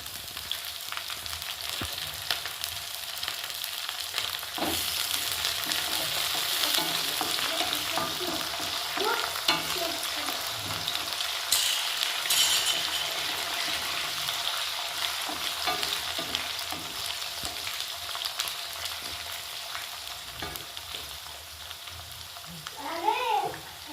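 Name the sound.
onions frying in a pan for uppittu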